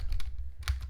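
A few quick clicking keystrokes on a computer keyboard, close and crisp, in a brief burst of typing with no talk.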